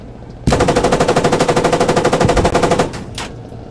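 A machine gun fires a long, fast, evenly spaced burst in the video game Squad, loud and close, lasting over two seconds before it stops abruptly.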